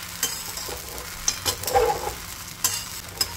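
Sago khichdi is stir-fried in a pan, a close sizzle broken by sharp scrapes and taps of a spatula at irregular intervals, with no talking.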